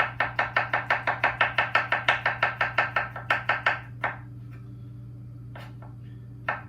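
A knife slices sauce ingredients thinly on a cutting board in a rapid, even run of about twenty close, crisp chops, then a pause followed by a few scattered single cuts.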